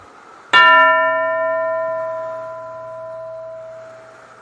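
A single bell is struck once with a bright clang, then rings on in a steady, slowly fading tone for several seconds. No voices are heard.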